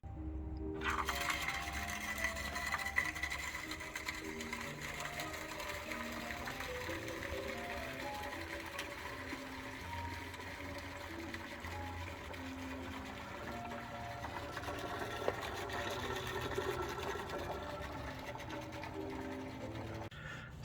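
An Airlift vacuum tool draws coolant into a Ferrari 360 radiator with a steady hissing, gurgling flow of liquid, a continuous mechanical whir underneath and occasional small clicks, all fairly quiet and with no speech.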